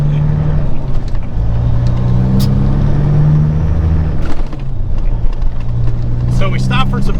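A flatbed truck rumbles steadily over rough road, a continuous low engine drone with bumps and rattles from the cab, close and loud throughout, with a voice talking over it.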